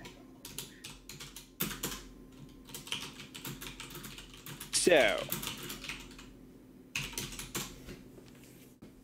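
Rapid bursts of typing on a computer keyboard during an online tabletop gaming session, close and crisp clicking in clusters separated by short pauses, with a brief spoken word and some faint background talk.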